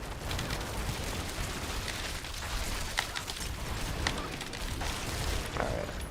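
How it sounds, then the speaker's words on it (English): Giant explosions in the Diablo 4 video game, a dense continuous barrage of booms and bursts with sharp pops scattered throughout, loud and unbroken for several seconds. "you just get to see these giant explosions"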